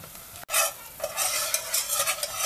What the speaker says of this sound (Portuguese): é mexer bem agora para cozinhar essa farinha de trigo